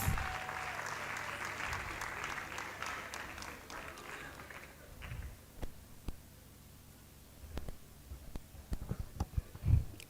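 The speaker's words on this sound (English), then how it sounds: "Women, clap for her, please." Crowd applause at a Delta State small-business summit, dense clapping that fades after a few seconds into scattered individual claps and a few louder close hand claps near the end.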